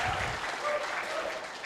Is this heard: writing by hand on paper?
no